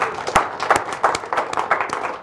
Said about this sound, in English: And can we all give them a big round of applause?